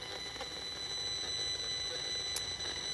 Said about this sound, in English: Safe and Sound Pro for radio frequency. Turn the sound up.